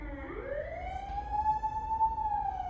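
An emergency siren wails outside, one long rising tone that swells and holds steady for a few seconds, moderately loud and passing by with traffic rumble beneath, no talking.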